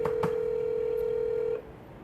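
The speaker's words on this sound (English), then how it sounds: "Ringing." Outgoing phone call ringback: a steady electronic tone holds for about a second and a half after a couple of brief clicks, then cuts off, heard alone without talk.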